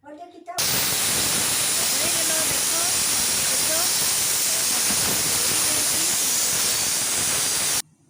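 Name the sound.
pressure cooker hissing while boiling lentils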